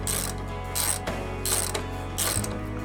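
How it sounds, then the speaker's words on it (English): Ratchet wrench loosening bolts on a motorcycle during a luggage rack and sissy bar install, rapid clicking in several short bursts separated by brief pauses, close and clear. "all we need to do is loosen the bolts, or take the bolts out completely."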